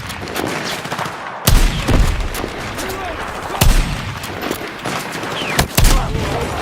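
Rapid gunfire rattles through a Battlefield 6 firefight: bursts and volleys overlap with several heavy, booming shots, and voices call out amid the combat.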